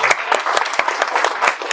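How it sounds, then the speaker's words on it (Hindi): Audience at a Varanasi health seminar claps in a quick burst, individual hand claps distinct and sharp, near and fairly loud for under two seconds. "ताली से थैंक यू बोल दें"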